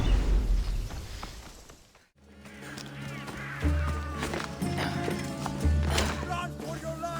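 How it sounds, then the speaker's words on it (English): Horses gallop with heavy clip-clopping hooves in the video game Assassin's Creed Odyssey, loud and close amid a busy mix of game sounds and voices, with no clear neighing. "Run for your life! Duko Viari's horses down upon us!"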